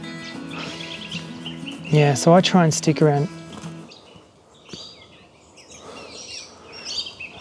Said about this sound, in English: so many little birds here, you can hear them